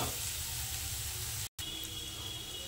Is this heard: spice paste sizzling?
yes